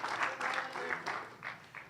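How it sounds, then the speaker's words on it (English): Light applause from a small audience at a dinosaur Q&A event, soft and patchy in uneven bursts, with a voice cheering over it. "Let's give him a round of applause"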